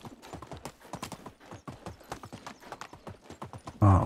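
Donkey hooves galloping at a steady clip-clop in the Medieval Dynasty video game, a fast repeating beat of close hoof strikes that ends in a loud heavier thud.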